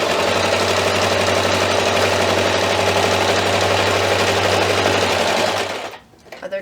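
A sewing machine runs steadily and loudly as it stitches fabric for a homemade first aid kit, a continuous whirring hum that stops abruptly near the end, followed by a few faint handling noises.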